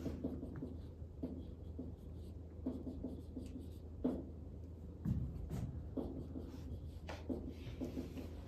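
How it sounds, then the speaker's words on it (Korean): A teacher writes on a classroom board, with quiet scratchy strokes and soft taps coming in short bursts close by over a low steady room hum, and no talking. "오늘 학습 목표를 한번 선생님이 써볼게요"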